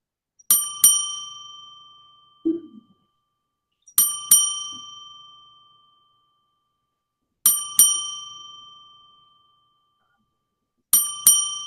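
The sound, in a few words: POS app new order notification sound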